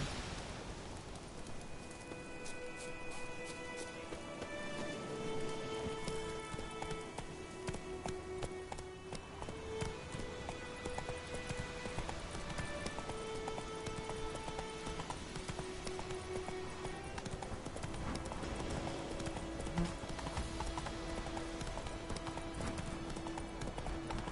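Steady clip-clop of hooves runs throughout in a rapid, even rhythm, with tonal game music playing over it.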